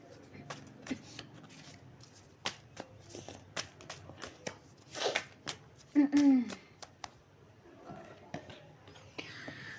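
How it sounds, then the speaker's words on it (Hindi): A deck of tarot cards is shuffled by hand with soft riffling flicks and taps at close range, the riffles bunched in short runs. A voice speaks now and then between them. "Let me shuffle the deck again."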